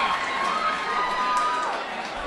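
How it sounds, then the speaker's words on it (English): Wrestling fans cheer and shout throughout a match, a steady crowd roar with children's high voices mixed in, filling the whole moment. "you can hear them cheering on Glena every step she takes"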